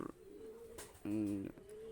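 A Pakistani high flyer pigeon gives a strong, sustained coo for about half a second amid quiet background noise and faint voices.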